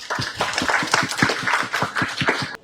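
A small group claps steadily and briskly, sharp close hand claps in a regular rhythm for a couple of seconds.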